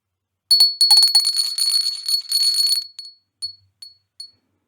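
A hand bell rung as a tarot reading group marker, a close, bright rapid tinkling run of about two and a half seconds, then four single dings spaced out as it settles.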